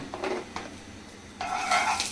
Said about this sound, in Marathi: गॅस पेटून आता कढई ठेवल्या